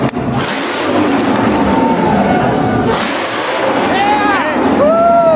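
Dodge Super Charger's 1,000 HP Hellephant 426 HEMI crate engine revs loud and close, roaring up twice with a high whine, while people shout and cheer over it.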